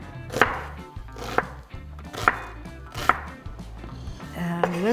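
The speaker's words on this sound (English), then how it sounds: "So I'm cutting them into half moons basically." A knife chops carrots into half moons on a board, about five crisp, evenly spaced cuts with a short scrape near the end, close and clear with no talking.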